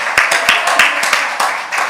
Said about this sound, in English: Let's clap them up for their participation.